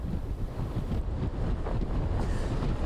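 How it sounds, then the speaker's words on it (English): Strong wind roars and buffets the microphone in a constant low rumble, gusting slightly stronger partway through. "There's no rain out here, but this wind is crazy"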